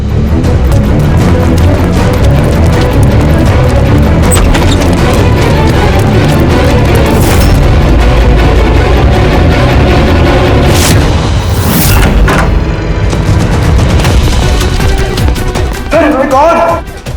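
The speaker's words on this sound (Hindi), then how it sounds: "सुबोध सर, गोली किसे मारी है?" Loud, chaotic booms and sharp bursts like gunshots ring out over dense, continuous noise and commotion in a TV crime drama scene, with no clear speech standing out.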